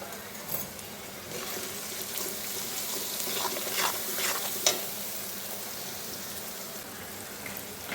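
Hilsa fish fries in a pan with salt, turmeric and chili powder, giving a faint, continuous sizzle broken by occasional soft scraping stirs, with no one talking.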